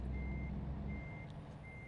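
A truck reverses a trailer in a yard, its backup alarm giving evenly spaced high beeps over a low engine rumble.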